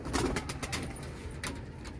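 Pigeons kept by a fancier in old Lahore cooing in soft, repeated low burbles, close by, with faint clatter and background noise around them.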